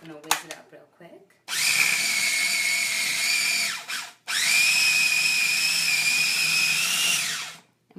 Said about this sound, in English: with our softened butter and our sugar, we're just going to whiz it up real quick